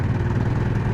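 A 2015 Ducati Diavel Carbon motorcycle in sixth gear at low revs, around 2000 rpm, gives off a steady, loud, low engine rumble with a lumpy, clattering pulse.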